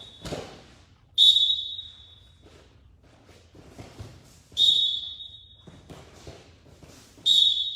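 A coach's whistle at wrestling practice sounds three sharp, loud blasts spaced a few seconds apart, with soft thuds and shuffling of wrestlers on the mat between them.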